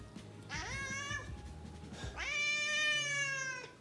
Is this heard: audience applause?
no